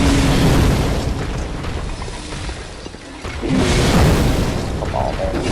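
A launcher explodes in the video game Bloodborne, giving a loud, sustained roaring boom that dips midway and then surges again, with dense blast noise throughout.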